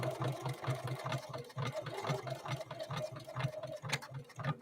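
Necchi NE30 sewing machine running while trying to feed denim, a fast even mechanical chatter of the needle with a low motor hum, close and steady without talk.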